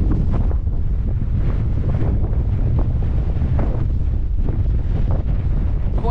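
Strong wind roars across open Dartmoor moorland near a stone circle, buffeting the microphone in a loud, constant low rumble with gusty surges and no clear voices.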